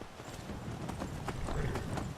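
Horse hooves clip-clop in a video game, a steady, even trotting rhythm at moderate distance with no voices over it.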